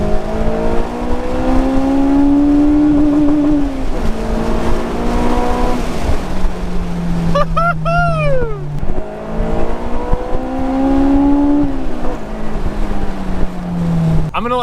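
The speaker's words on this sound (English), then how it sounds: "I love how loud it gets when you just put a little bit of load on the engine" A Honda S2000 with a GReddy Revolution RS exhaust revving under load, a loud close engine drone rising and falling in pitch through repeated pulls, with a brief higher whining rev in the middle.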